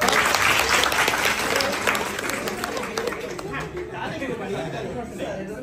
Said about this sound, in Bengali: হাততালি দাও।